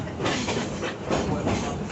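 An amusement park train rolls downhill through wooded grounds, its wheels giving a steady clickety-clack under a continuous rumbling hiss, close and moderately loud with no talking.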